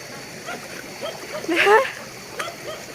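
Water splashes in a flowing stream outdoors on a rainy morning, with a brief, louder splash burst in the middle over a steady bed of running water.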